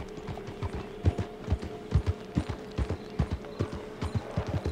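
Rhythmic clip-clop of horse hooves in Red Dead Redemption 2, a steady walking gait of close, distinct thuds over a low hum, with no talk.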